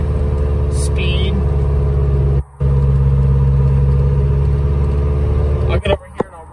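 A Nissan Hardbody pickup truck cruises at light throttle, its engine a steady low hum and drone inside the cab, broken by a brief dropout and a few clicks near the end.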